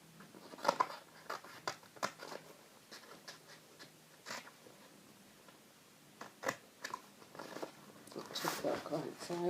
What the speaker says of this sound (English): the spine bit I just kind of cut it at an angle inwards towards it